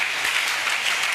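A church congregation claps together at a worship service, giving a dense, steady burst of applause that fills the whole moment without any voice over it.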